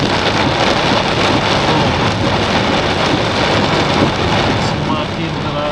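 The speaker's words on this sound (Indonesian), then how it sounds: "Semakin deras hujannya." Heavy rain pounds steadily and loudly on a Karimun Wagon R car while driving near the Marlin roundabout in Pangandaran during a storm, a dense continuous roar throughout.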